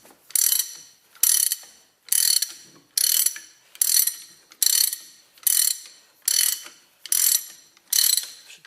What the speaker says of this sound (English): So we tighten the puller, push the torsion bars through and pull off there.